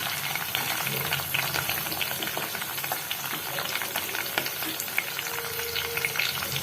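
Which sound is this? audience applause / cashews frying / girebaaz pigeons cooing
cashews frying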